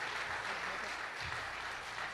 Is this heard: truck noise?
no